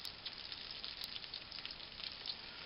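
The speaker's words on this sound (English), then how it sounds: "y'all sit here and listen to that sizzle for a minute or two" A shredded potato, apple and spam pancake sizzles steadily in a hot pan, a constant close crackling hiss with tiny pops and no voices.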